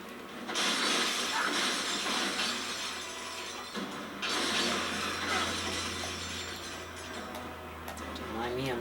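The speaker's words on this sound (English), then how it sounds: "Don't mind me, I'm just getting bolts." Bolts being collected in Ratchet and Clank: Tools of Destruction, a loud glittering shower of clinking metallic pickups in two long bursts over steady game noise.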